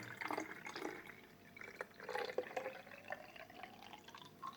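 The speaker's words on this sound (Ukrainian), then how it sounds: "наливаємо сюди чисту воду" Clean water poured into a plastic bottle at close range, a soft trickling fill with small drips and splashes running for several seconds, quiet and alone without talk.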